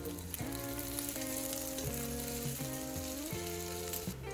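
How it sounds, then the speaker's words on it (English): Frozen bacon frying in a hot pan gives a steady, loud sizzle throughout, with no talking. "Just place the bacon directly into a hot pan and cook it like normal."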